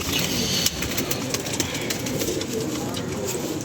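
Pigeons coo and shuffle on a rooftop during a pigeon show, soft murmuring calls mixed with sharp clicks and light flutters, with faint street noise around and a voice in the background.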